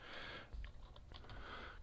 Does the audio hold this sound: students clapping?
no